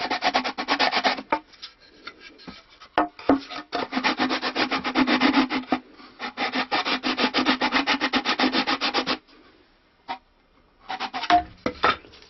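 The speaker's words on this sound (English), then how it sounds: "We are going to sand it with a sanding stick just to make sure" Steady back-and-forth rasping of a sanding stick on wood of a stick dulcimer fingerboard, fast rhythmic strokes in bursts with brief pauses, close and fairly loud, no talking.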